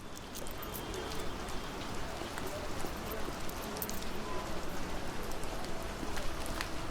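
Steady rain patters throughout as a dense, even wash of drops, a continuous ambience bed in a film sound mix with no clear gaps.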